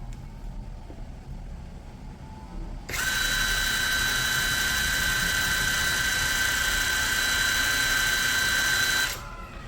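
Cordless brushless impact driver DCA ADPL03-14 spins up at its high speed setting after a quiet stretch. It gives a loud, steady high-pitched whine for about six seconds, then cuts off abruptly.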